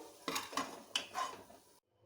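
A few close, distinct scrapes and clinks of a spoon against a pan as bitter gourd stuffing is moved onto a plate, ending in silence.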